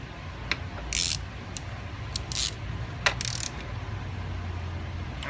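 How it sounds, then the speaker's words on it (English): A ratchet tightens highway peg bolts on a Kawasaki Concours 14 GTR 1400, heard as several short bursts of close, sharp clicking separated by brief pauses over a low background hum. "let's go ahead and tighten these down."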